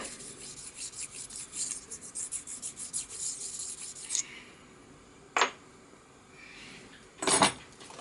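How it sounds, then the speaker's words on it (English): Metal being rubbed to take the burr off a new vice, heard as close, rhythmic rasping strokes for about four seconds, followed by a quiet gap and two sharper isolated scrapes, with no talk. "And a bit of a rub over that. Just to take the burr off."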